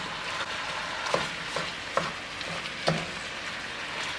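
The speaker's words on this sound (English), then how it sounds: "Now I'm browning the last of my ground beef." Ground beef, 80-20, browning in a pan sizzles steadily at close range, with a few sharp scrapes and knocks of a utensil against the pan breaking up the crackle.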